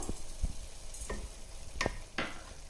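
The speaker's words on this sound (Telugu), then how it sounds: "ఈ మసాలా అంతా దీంట్లోనే ఫ్రై కావాలన్నమాట" Dry masala spices stirred and frying in a pan for a fish curry, with soft sizzling under a few sharp scraping ticks of a spoon against the pan, no talking.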